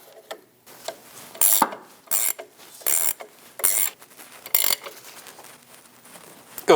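A ratchet wrench tightens the top nut on a front shock of a Chevrolet Express van, in about eight loud, close bursts of rapid clicking separated by short pauses. No voices are heard.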